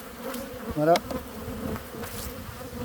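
Honey bees buzz softly as they are returned to the hive during a winter inspection, a faint steady hum with one brief louder burst near the middle; a single short spoken word is heard.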